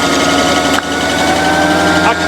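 A Chieftain tank engine driving in third gear through a TN12 gearbox, a loud steady droning rumble with a whining mechanical tone, continuous and close throughout.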